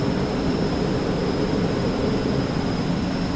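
An airliner climbs out of Leeds Bradford airport in a flight simulator, a steady, loud, unbroken engine roar with a faint high whine running through it and no voices.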